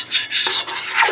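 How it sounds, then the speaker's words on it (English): A spoon stirring a roux in a pot for étouffée, cooked slowly toward a light peanut-butter color: short scraping, rasping strokes against the pan bottom, close and moderately loud, with no talk. "I'll be stirring for a while."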